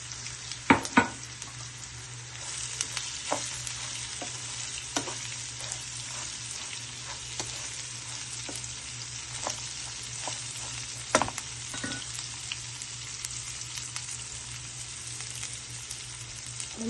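Bitter gourd pieces fry with turmeric in a hot pan, a steady broad sizzle running throughout while a spoon scrapes and stirs in scattered clicks and louder knocks near the start and around eleven seconds.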